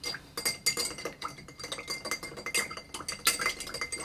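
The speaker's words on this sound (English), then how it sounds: "And then we stir a bit to chill everything down" Cocktail spoon stirring an Oaxaca Old Fashioned over ice in a glass, giving a steady run of close clinks and rattles of ice against glass and metal, with no talking.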